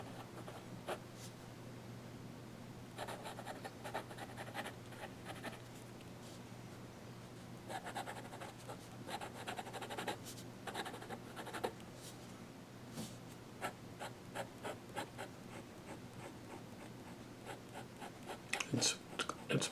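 A Kaweco Special fountain pen with an extra fine nib drawing on paper, giving faint, close scratching strokes in short irregular bursts over a quiet, steady room background.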